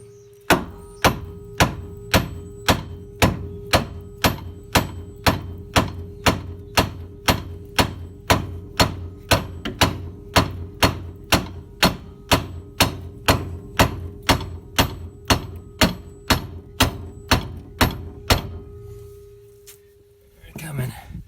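Hammer taps on the rear strut assembly of a Ford Contour, a steady series of about forty sharp metallic knocks at an even quick rhythm, close and loud, stopping near the end.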